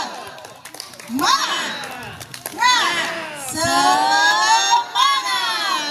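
Children at an outdoor church service clap and chant together in rhythmic bursts, with loud shouting voices over the claps and a lively crowd around them.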